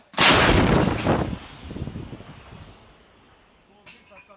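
A mortar fires from a Ukrainian battery position: one loud, close blast with a long rumbling decay that fades over several seconds, followed by a faint later sound.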